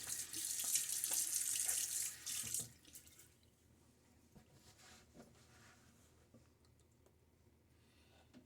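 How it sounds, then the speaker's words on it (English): Tap water running into a sink while a man wets his face during a wet shave, a loud steady hiss for about two and a half seconds that cuts off, leaving faint splashes and drips. "Get my face wet again."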